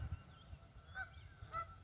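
Geese honk faintly in the distance, two short calls about half a second apart, over low rumbling background noise, with no talk.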